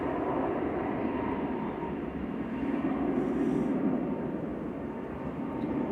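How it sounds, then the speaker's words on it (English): KLM Airbus A321neo taking off from Manchester Airport bound for Amsterdam, a steady broad engine roar held at constant loudness throughout, fairly distant and with no talking. "Heading back off to Amsterdam there. One KLM came in, one goes out, and that's PHAXC, one of their A321neos."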